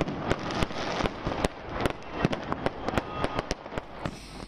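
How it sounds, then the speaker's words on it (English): Fireworks burst over the Golden Temple in Amritsar at night: a rapid, irregular string of sharp pops and crackles, heard from a distance and fairly faint, with no talking. "one can also watch a splendid display of firecrackers that fill the night sky"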